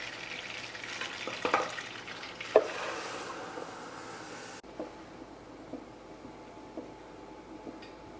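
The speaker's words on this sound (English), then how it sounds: "We are going to put our mixture inside with butter and mix it until it's going to thick and creamy." A mixture is stirred with butter in a pot, with soft scraping and faint sizzling that builds at first, then continues more quietly after a cut, with no talk.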